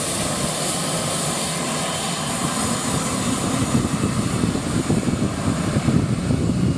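A light aircraft departs from runway 17 at Cannes Mandelieu, its engine roaring steadily and loudly, swelling slightly as it climbs away, with no talk.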